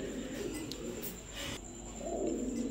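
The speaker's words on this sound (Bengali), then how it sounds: "দর্শক লাল সাদা রাসগোল্লা কবুতর, তাও একদম পুতুল বানের" Red-and-white rasgolla pigeons coo softly and repeatedly at close range, low throaty burbles over a steady faint background hum.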